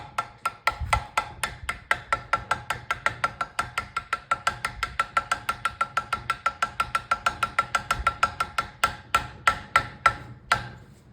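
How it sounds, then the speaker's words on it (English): Screwdriver gently tapping a part on a Briggs and Stratton V-twin Intek engine during a rebuild, a long run of evenly spaced light metallic taps that speeds up slightly mid-way, close and clear with no talk. "screwdriver to just tap gently"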